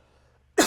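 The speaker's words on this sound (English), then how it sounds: "I got a cough, guys." A single sharp cough bursts out loudly and close after a brief near-silent pause.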